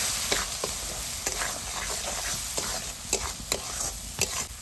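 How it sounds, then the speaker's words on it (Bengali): Ground spice paste frying in a pan with salt and turmeric, a steady close sizzle under repeated scraping stirs of a spoon, no voices. "মশলাগুলো একটু ভেজে নিয়েছি, এবার নুন আর হলুদ দিয়ে দেবো"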